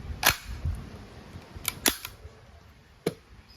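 A Crosman A4-P CO2-powered airgun shooting 4.5mm steel BBs gives several sharp mechanical clicks and snaps as the bolt locks open on an empty magazine, with three or four crisp transients spaced over a few seconds and no voices.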